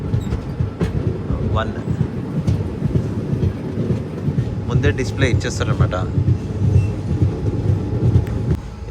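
The Narsapur Express rolls onto platform 1 at a station with a steady rumble, rhythmic wheel clatter and faint squeals. Someone talks over the train noise throughout.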